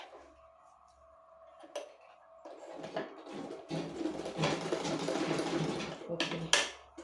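A sewing machine stitches a homemade bra cup, going back over a seam. Faint handling noises come first, then a sustained, fairly loud whirring run of stitching, with brief pauses near the end.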